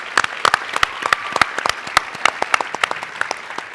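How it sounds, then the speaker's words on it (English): A small group applauds at an awards night, giving a few seconds of distinct, sharp claps with individual hand strikes clearly separated, fairly close and moderately loud. "so let's give them a round of applause."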